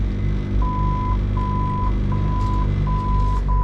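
Marine electronics on a 29-foot Seahawk boat with twin Yamaha F300 outboards powering up give a steady run of five evenly spaced electronic beeps over a constant low engine or vehicle hum.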